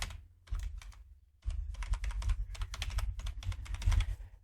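An email address is typed on a computer keyboard: dense, close key clicks run in a steady stream after a short opening flurry and a brief pause, with no voices.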